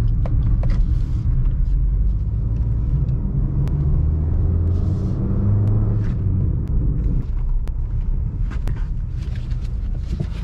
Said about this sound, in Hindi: थोड़ी सी साउंड है अंदर, और रोड नॉइज़ नहीं है, ये कैबिन नॉइज़ है।